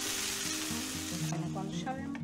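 Seasoned carrot sautés in a frying pan with a dense, continuous sizzle, close and fairly loud, with soft stirring scrapes and a low steady hum underneath, and no talking.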